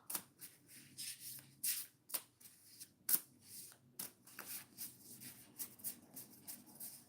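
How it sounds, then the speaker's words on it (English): A deck of tarot cards is shuffled and a single card drawn, giving soft, close riffles and flicks in an irregular run of light papery snaps, very quiet with no talk. "I'm going to pull one card that's going to set"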